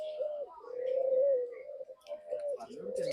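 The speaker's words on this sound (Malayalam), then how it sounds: "ഈ സെറ്റ് മുഴുവൻ കിളികളാണ് ഇത് പ്രാവ് പ്രാവുകൾ" Soft, drawn-out pigeon cooing close by, a few low warbling calls in a row.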